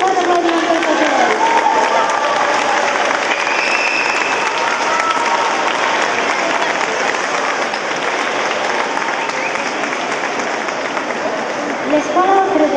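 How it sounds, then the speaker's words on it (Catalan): Loud, sustained audience applause with some crowd noise greets a primary school children's choir at a choir gathering, clapping continuously and evenly from start to finish. "Un bon aplaudiment per tots ells."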